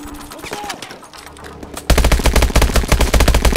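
Rapid automatic gunfire from Call of Duty Advanced Warfare erupts suddenly halfway through, loud and continuous, after a quieter stretch of game sounds.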